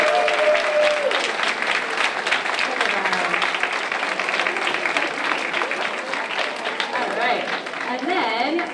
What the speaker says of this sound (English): So let's give our percussion a round of applause.